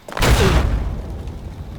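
A grenade explodes in the Fallout video game, with a sharp, loud boom followed by a rumbling tail that decays slowly over the next second and a half.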